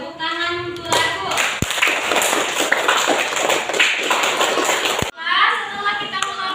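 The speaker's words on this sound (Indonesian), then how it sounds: "Bagus sekali, tepuk tangan untuk Rabu" Applause in a classroom during a teaching simulation, a dense burst of children's clapping lasting several seconds, cut off sharply, with voices before and after.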